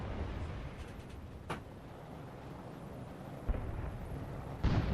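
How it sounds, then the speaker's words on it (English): A big bomb going off in the flight combat game Nuclear Option, heard as a low, rumbling roar with a few dull distant thuds, fairly quiet overall. "I think it was just a really big bomb"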